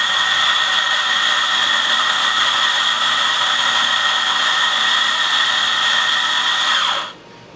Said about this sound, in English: We have a Quaymar grinder, which we're using.